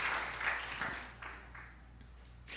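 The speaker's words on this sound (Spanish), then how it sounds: "Dele un aplauso al Señor si quiere, para la gloria de Dios." A church congregation claps in brief applause during a Spanish-language sermon, the bursts fading out within a couple of seconds, faint and somewhat distant.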